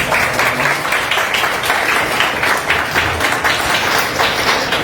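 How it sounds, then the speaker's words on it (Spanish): An audience at a literary discussion gives warm applause, a full, close burst of clapping with a slightly uneven, pulsing texture that carries on throughout. "Un fuerte aplauso para ambos."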